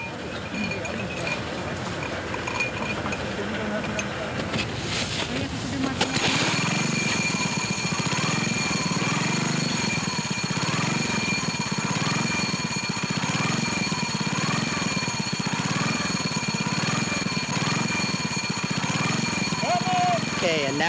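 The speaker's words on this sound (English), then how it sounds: "signal your friend at the top of the hill to start the engine" Small engine of a portable rope-tow ski lift on a snowy hill, starting around six seconds then running steadily with a loud, continuous rhythmic drone and cable rattle.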